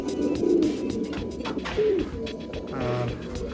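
Several pigeons kept as breeding pairs coo in low, rolling phrases that swell and fade, close by, with faint background rustle.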